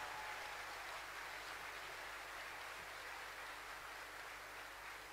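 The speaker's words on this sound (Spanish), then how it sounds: "Fuertes aplausos, fuertes aplausos." Sustained applause from a theater audience at the Teatro Real in Córdoba, a broad steady wash of clapping that holds at an even level for the whole stretch, with no voices over it.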